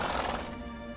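Roach, the horse in The Witcher 3, gives a short, fairly faint whinny with a shaky, wavering tone, heard alone with no talking.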